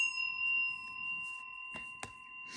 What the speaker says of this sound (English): I'm going to go ahead and ring the bell to cleanse any and all other vibration